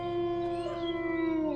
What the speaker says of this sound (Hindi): दूर से भेड़िए और कुत्तों के रोने की आवाज़ें आ रही थी।